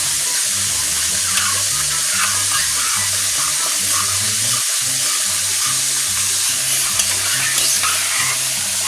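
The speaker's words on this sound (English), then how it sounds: "Keep stirring till it gets thick enough to your consistency." Broth and flour slurry being stirred steadily into sizzling gravy for smothered fried pork chops, a continuous loud scraping and bubbling with soft music underneath.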